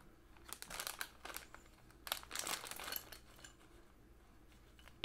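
Plastic Lego DC minifigure blind bag crinkles in short bursts as it is torn and handled, close and quiet with gaps between, no voices.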